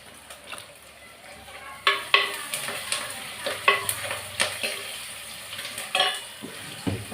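Onions sauté in a clay pot, giving a quiet sizzle broken by a run of sharp scraping and knocking stirring strokes that grow louder midway and carry on at an irregular rhythm.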